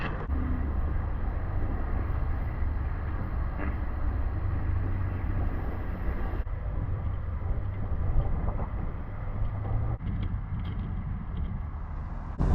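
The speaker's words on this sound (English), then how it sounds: "That wind." Strong night wind blows outdoors at a highway billboard camp spot, a loud continuous low roar and rumble buffeting the microphone with no speech.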